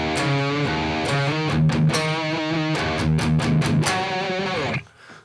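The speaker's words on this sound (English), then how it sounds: "So the way you drag the listener into these riffs is that quarter bend." Distorted electric guitar plays a bridge riff, with a quick quarter-tone bend dragging into repeated choppy phrases, loud and close, then cutting off sharply near the end.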